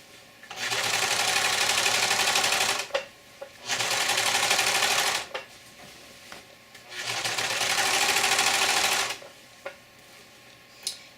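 A serger stitches fabric for sleep shorts in three loud, close bursts of rapid whirring separated by short pauses, with small clicks and handling noises between runs.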